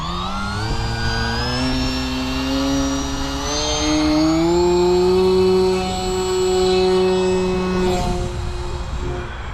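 The electric motor of an Atomrc KillerWhale RC plane whines steadily and rises in pitch during takeoff, a loud, close, sustained tonal drone that swells and then eases slightly.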